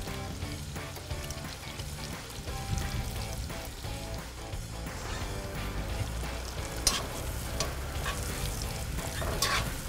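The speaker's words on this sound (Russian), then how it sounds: "Обжариваем, чтобы она стала у нас такая, чуть золотистая." Butter sizzles and crackles steadily in a hot wok while chicken is stirred until golden, with scraping and spattering throughout.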